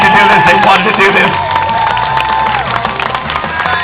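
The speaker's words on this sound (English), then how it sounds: "One more time, give these people a big round of applause." Crowd cheering and clapping after a celebrity race, loud and continuous with shouts and whistles mixed into dense applause that carries on throughout.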